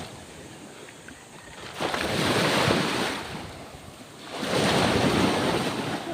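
Ocean waves rolling onto a black-sand shore at Bagac, Bataan, two loud surges washing in and fading with steady wind noise between them.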